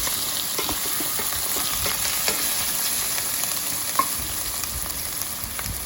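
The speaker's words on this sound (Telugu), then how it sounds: "హాఫ్ టీ స్పూను అల్లం వెల్లుల్లిపాయ పేస్ట్ అండి. కొద్దిగా పచ్చి వాసన పోయే వరకు కొద్దిగా వేపుకోవాలండి లైట్గా." Half a teaspoon of ginger garlic paste frying lightly in a pan gives a soft, even sizzle with occasional small pops and utensil taps, steady and fairly quiet throughout.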